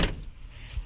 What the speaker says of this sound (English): Now we're gonna test the door out. So we're gonna close it.